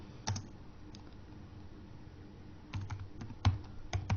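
VBA code is typed on a computer keyboard in sparse, crisp clicks: a few isolated taps, then a quicker burst of keystrokes near the end, quiet and close.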